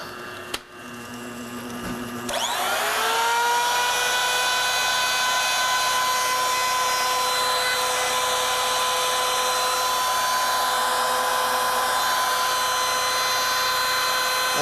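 A small Q Lathe Model B machine tool takes a cut on a metal shaft, its motor spinning up after a brief pause and then holding a loud, steady whine with bright harmonic tones, close and unbroken with no talk.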